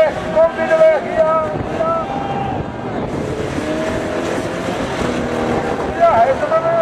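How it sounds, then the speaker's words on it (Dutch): Race car engines snarl and rise in pitch at a Christmas bauble race, buffeted by wind on the microphone, with someone talking over the roar. "Nou, veel motorgeluid."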